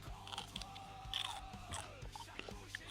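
Crunchy bites into an Aji Crystal chili pepper, close and quiet, with several crisp snaps and juicy chewing clicks in a hushed setting and no voices.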